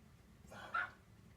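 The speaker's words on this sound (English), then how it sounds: "I hear the dog barking." A single faint dog bark sounds from somewhere away from the garage, one short yelp standing out over a low background rumble.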